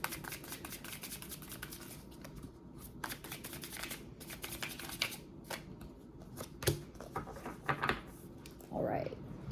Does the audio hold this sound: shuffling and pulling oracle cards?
yes